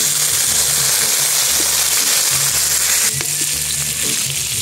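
Pork belly sizzling and crackling in a hot pan, a steady loud frying hiss with occasional stirring clinks.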